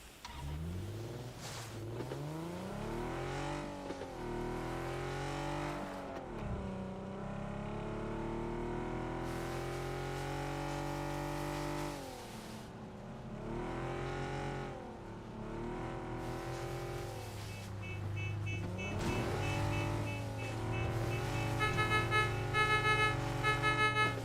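A car engine in PUBG revs and shifts through gears, pitch rising and falling repeatedly as it accelerates, loud and close, with a brief gap mid-drive and a second engine tone joining near the end.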